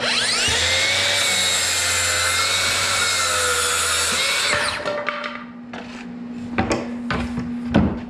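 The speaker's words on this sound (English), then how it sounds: "the Makita has a scoring feature, which is nice. It only goes a couple mils in, push that in, scores it." A Makita power saw makes a shallow scoring cut in wood, a steady loud whine for about four seconds before spinning down, followed by a few light clicks and knocks.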